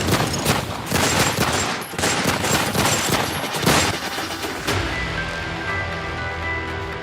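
Dense rapid bursts of shootout gunfire, overlapping cracks and automatic-style volleys, loud and close for several seconds before easing into a ringing, rumbling tail.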